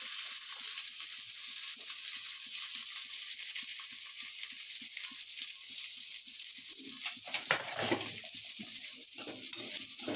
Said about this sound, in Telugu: ఆనియన్స్ కొద్దిగా ఎర్రగా వేగాలి